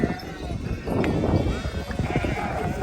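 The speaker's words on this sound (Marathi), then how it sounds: "बकरी आल्या तिथं" Goats bleating nearby amid lively outdoor voices, with a few wavering calls standing out over the chatter and rustling.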